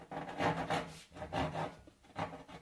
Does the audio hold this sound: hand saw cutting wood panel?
yes